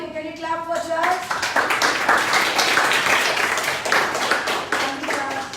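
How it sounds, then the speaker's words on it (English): Audience clapping for a presenter at a World Photography Day gathering; a voice speaks briefly at the start, then close, loud, sustained applause with crisp individual claps fills the rest. "Can you clap for Charles?"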